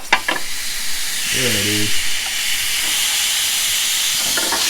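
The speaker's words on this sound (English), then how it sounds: "Let's listen for that sizzle." Ribeye steaks sizzle loudly and steadily on a Ninja Foodi Smart XL electric grill, a constant frying hiss, with a short spoken remark and a brief tone partway through.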